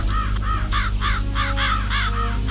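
Crows cawing in the PC game Fear for Sale: Sunnyvale's Story, a run of harsh, regular caws repeating over a steady low game hum, loud and close, with no voices.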